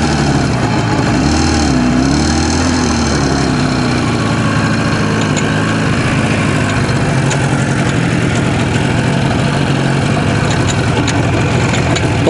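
IZh Jupiter 5 motorcycle with sidecar, its engine running steadily with a loud, continuous rough low drone and faint mechanical clatter throughout.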